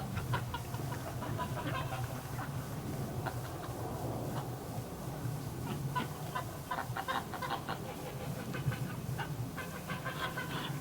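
Female ducks call in a wintry outdoor setting, a steady run of clucking, quacking notes over a continuous low hum, moderately near and fairly even in loudness throughout.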